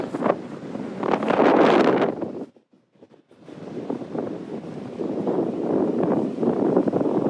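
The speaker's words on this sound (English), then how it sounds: "See how windy it is?" Strong wind at Huntington Beach buffets the microphone in loud, rumbling gusts, briefly dropping to a lull before roaring back steadily.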